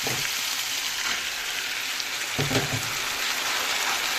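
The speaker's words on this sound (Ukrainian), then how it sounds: "І помішуючи теж смажимо" Meat and mushrooms sizzle steadily in a hot pan, with a soft crackle and a brief stirring scrape partway through.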